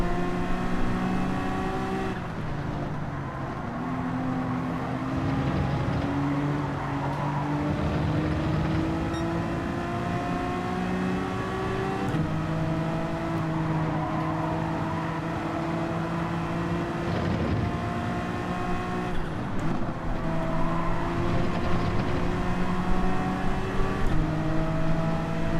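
A race car engine from Gran Turismo 7 drones loudly and continuously, its pitch climbing through gears and dropping at shifts and braking, with no talk over it.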